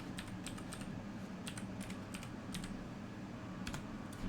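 Quiet keyboard typing sounds as a wireless network password is entered, with scattered single key clicks and short bursts over a steady background hum.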